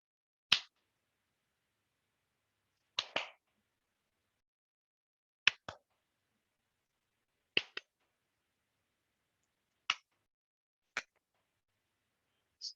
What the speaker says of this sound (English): one clap right, two claps left